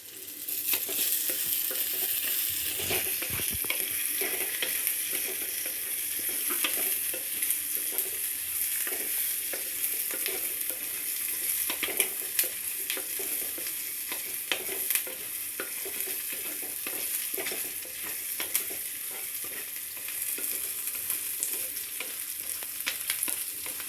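Onion and green chillies sizzle steadily in hot oil for a fish curry, with scraping stir strokes against the pan throughout; loud, close and continuous with no talking.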